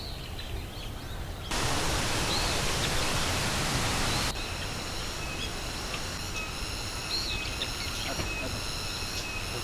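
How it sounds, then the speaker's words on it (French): Jungle ambience near a waterfall in Ubud, Bali: a steady rush of falling water swells loud for a few seconds, while high insect chirps and birdcalls trill over the constant hiss. "je vous laisse un petit peu avec de la ASMR de la jungle"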